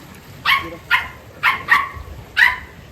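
A dog barks five times in short, sharp bursts spaced about half a second apart, fairly close, over a quiet low background hum.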